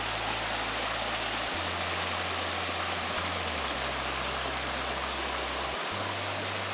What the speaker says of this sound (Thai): นี่นะฮะเป็นบรรยากาศของน้ำตกตรอกนองนะครับ